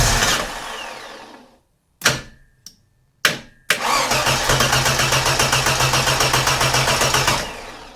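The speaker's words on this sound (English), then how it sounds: "So that lets us trip the starter motor." A car's starter motor cranks in a few short bursts separated by silence, then a sustained rhythmic cranking churn continues for several seconds before cutting off, close and loud.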